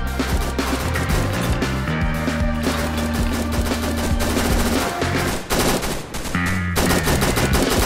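AK rifle fire in the video game Fallen Survival: loud, rapid automatic bursts crack out one after another over layered game sound, with brief pauses between volleys and no voices.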